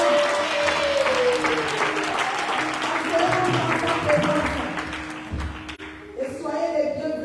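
A church congregation at a French-language seminar service applauds and cheers, a dense wash of clapping with voices rising over it, loud and near, thinning briefly near the end before picking up again.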